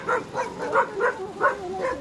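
A dog barks repeatedly in a steady rhythm, about seven short barks over two seconds, moderately close with faint background noise, at a grape farm in Ilocos.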